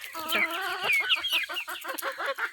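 Several desi country chickens cluck and squawk close by, a busy overlapping chorus of short calls with a few higher, drawn-out cries.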